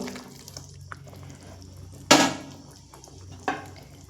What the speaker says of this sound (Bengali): এবার আগে থেকে ভেজে রাখা মাছ আর পটলগুলো দিয়ে দেবো